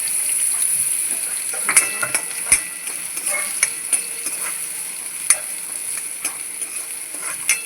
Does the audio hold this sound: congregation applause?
no